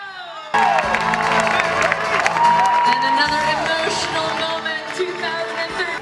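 Spectators at the UTMB 2014 ultra-trail finish cheer and whoop for the women's winner, loud shouts and clapping bursting in after a half-second lead-in and sustaining with mixed voices and high calls throughout.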